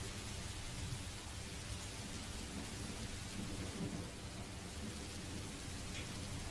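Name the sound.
rain and thunder sounds playing on stream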